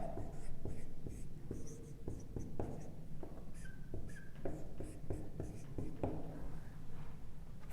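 Chalk or marker taps and scratches out an equation on a lecture board in a series of short strokes, fairly close and quiet, with faint room noise beneath.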